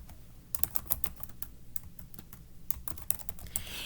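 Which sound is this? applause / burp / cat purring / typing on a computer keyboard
typing on a computer keyboard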